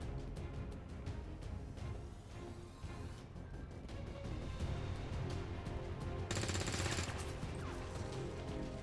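Soldiers firing weapons in XCOM 2: rapid, clustered shots crackle through steady game music, closing in a dense, loud burst, with no talk.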